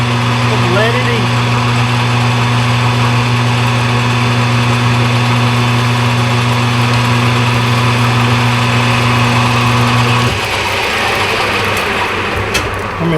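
Machine cutting metal pipe at 1,000 RPM, taking passes to break up chips, a loud steady humming drone that shifts pitch near the end, constant and close.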